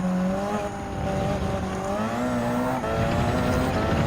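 Gr.1 race car engine at Le Mans in Gran Turismo 7, a loud continuous drone with rising and shifting pitch through gear changes and cornering, with faint tire squeal, no talking.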